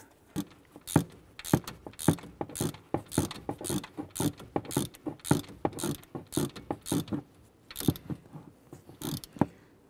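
A ratchet tightens an alternator bolt on a 2011-2018 Ram 1500 engine, giving quick, close clicking strokes in irregular bursts with brief pauses, crisp and moderately loud.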